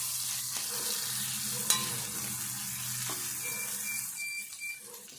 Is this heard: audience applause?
no